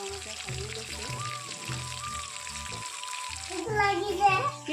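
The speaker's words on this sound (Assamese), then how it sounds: "মাছখিনি মই অলপ ৰঙাকৈ ভাজি লৈছোঁ।" Fish coated in salt and turmeric fries in oil, a steady close sizzle under a constant background hum, with a voice and other speech breaking in toward the end.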